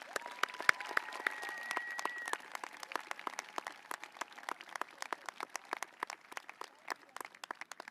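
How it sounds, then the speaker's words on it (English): Scattered applause from parents and families at a middle school promotion ceremony, individual claps distinct and fairly sparse, with a brief whistle-like tone near the start, lasting throughout at moderate loudness. "Please give Mr. Lucas a round of applause"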